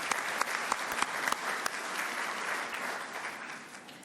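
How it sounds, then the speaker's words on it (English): Audience applause at a university convocation ceremony, steady and sustained from a large seated crowd, heard from a distance at moderate volume, with no speech over it. "we'd be like to give a round of applause for all your partners and loved ones"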